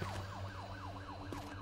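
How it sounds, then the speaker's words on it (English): Police sirens in the Roblox game Midnight Hours yelp in fast, repeating rising-and-falling sweeps over a low steady hum, loud and continuous with no voices. "You hear the police sirens."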